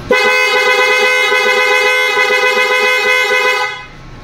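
A loud, sustained Benelli Panarea motorcycle horn blast holds steady for about three and a half seconds, then cuts off, leaving quiet road noise.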